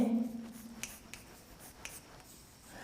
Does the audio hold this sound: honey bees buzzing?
no